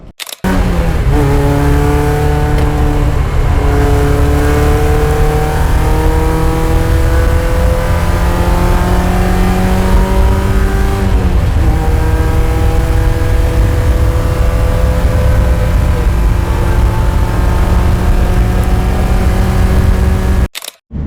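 Race cars on Falken RT660 tires lap a circuit at NCM Motorsports Park in an endurance race, engines loud and close, revving through repeated rising gear pulls and downshifts for about twenty seconds.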